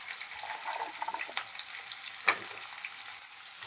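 Bitter gourd and onions fry quietly in a pan, a soft hiss with scraping stirs and one sharper clack of a spoon.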